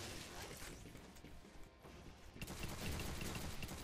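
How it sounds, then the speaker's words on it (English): Dense gunfire in the co-op video game G.I. Joe: Operation Blackout, a continuous rattle of shots and impacts that grows louder and busier in the second half, with no speech over it. "Who the fuck's shooting?"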